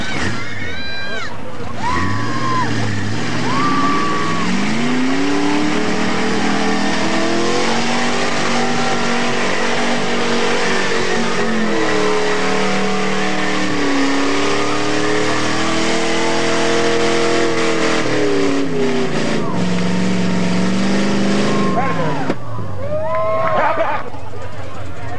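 A car engine revs hard at a mud run, its pitch climbing and falling in long sweeps, loud and close, with people talking over it.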